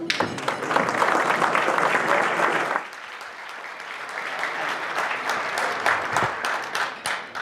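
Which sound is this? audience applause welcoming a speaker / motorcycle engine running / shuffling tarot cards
audience applause welcoming a speaker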